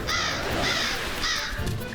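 A crow caws three times in a harsh, evenly spaced series, loud and close, over a steady background hum.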